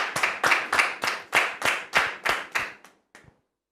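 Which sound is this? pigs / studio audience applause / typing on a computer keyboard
studio audience applause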